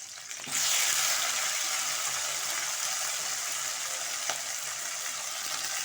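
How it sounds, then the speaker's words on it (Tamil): Curry leaves, onion and tomato hit hot oil in a pan with a sudden loud sizzle, then settle into a steady, bright frying hiss with a faint stir or clink partway through, no talking. "அது முதல்ல நல்லா நம்ம வதக்கிக்கலாம்."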